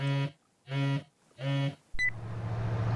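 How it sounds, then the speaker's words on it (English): A phone rings in the video game 428: Shibuya Scramble, three identical electronic ring tones with short gaps, followed by a sharp click and a low, steady hum. "The phone rang again."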